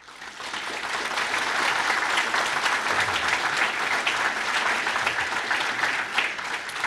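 A hall audience gives sustained, dense applause for home care aides at a community council's New Year greetings ceremony, steady and loud throughout with no talk over it.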